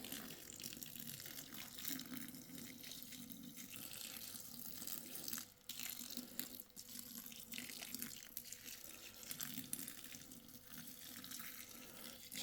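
Water runs steadily from a tap onto a block of coconut husk substrate being soaked, a continuous close splashing hiss with small drips, no talking.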